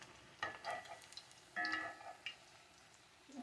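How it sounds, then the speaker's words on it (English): Green plantain frying in a pan, giving a faint, steady sizzle with soft crackles and a few brighter pops rising in short bursts, close by and quiet, with no one speaking. "Okay, this stuff is frying up perfectly."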